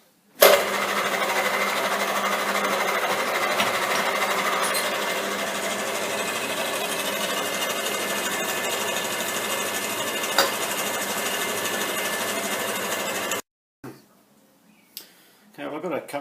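Metalworking machine drilling and tapping holes in metal, a steady, loud mechanical drone running continuously for about thirteen seconds before cutting off, followed by a few faint clanks.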